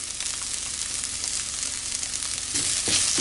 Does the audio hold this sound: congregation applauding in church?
no